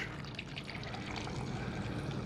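Blood orange juice pours into a margarita in a steady, close liquid stream for a couple of seconds.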